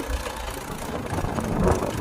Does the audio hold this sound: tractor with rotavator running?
yes